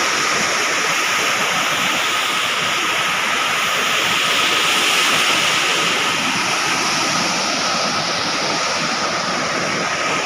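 A waterfall roars steadily and loudly at close range, a dense broadband rush of water without a break.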